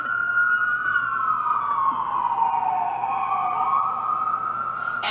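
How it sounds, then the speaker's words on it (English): An ambulance siren passing close by, a loud wailing tone that slowly sweeps down and back up in pitch, steady and continuous with no talk over it. "there's an ambulance going by right now, Wolf."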